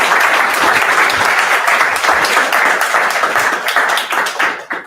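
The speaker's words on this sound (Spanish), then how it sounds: "un fuerte aplauso" At a bookstore launch event, an audience applauds loudly, a close, dense burst of clapping that holds steady for several seconds before fading out.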